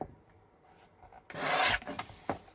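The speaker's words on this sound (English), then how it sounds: "And trim this up, because I hand cut the edges off. Now, we'll trim this up." Paper edges for a handmade floral journal trimmed with a cutter, a quiet rustle followed by one loud, close rasping slice and a brief softer scrape afterward, with no voices.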